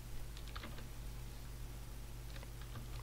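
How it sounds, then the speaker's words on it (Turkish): Computer keyboard keys tapped to steer a ball through a simple maze game, a quick run of light plastic clicks in short bursts against a steady low electrical hum. "Şöyle klavyeden tuşlarla yukarı aşağı veya WASD tuşlarıyla küre kontrol edebiliyoruz."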